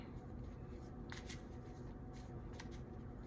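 A deck of oracle cards is shuffled up close in a few quick riffling bursts over a faint steady hum.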